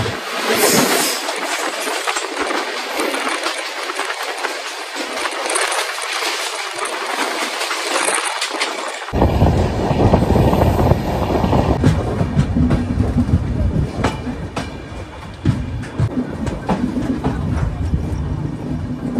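A passenger train runs at night between North and South Bengal, wheels clattering loudly and continuously on the rails from inside the carriage, the rumble deepening partway through.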